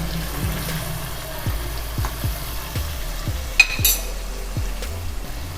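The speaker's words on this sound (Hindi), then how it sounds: "अब ये मैं टमाटर डाल दूंगी और ये इसको ढक के रख दूंगी।" Tomatoes cook covered over a medium flame in a mutton karahi, producing a low, steady sizzle and bubbling with soft repeated pops and a brief clatter partway through, with no voices.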